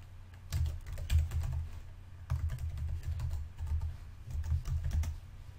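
Code is typed on a computer keyboard in bursts of quick, soft key clicks separated by short pauses, close and fairly quiet, with no talking.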